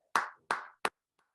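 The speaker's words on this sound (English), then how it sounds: "Everybody give a round of applause for Kyle Jessie." A few sharp hand claps for Kyle Jessie after his fantasy fishing win: three distinct claps close together, then a faint tap, with quiet between them.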